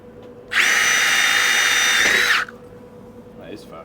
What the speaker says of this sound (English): This is 4mm thick mild steel.